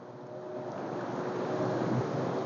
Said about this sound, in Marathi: इकडून मस्त एक नंबर पाणी असं उडतोय